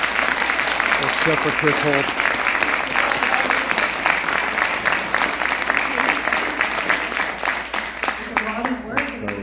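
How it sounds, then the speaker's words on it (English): A crowd claps steadily throughout at a 2022 mayoral debate in Windsor, loud and sustained, with a voice speaking over the applause near the end. "So if we can all give everyone a round of applause."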